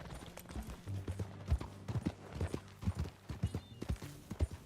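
Horse hooves clip-clop in a steady, uneven rhythm while riding in Red Dead Redemption 2, close and fairly loud, with low rumbling tones underneath and no speech.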